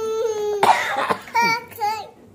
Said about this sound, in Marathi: खोकला आला मला.